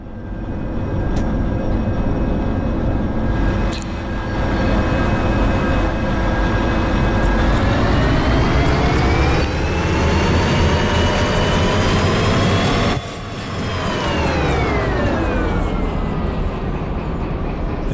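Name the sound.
locomotive accelerating in the video game Derail Valley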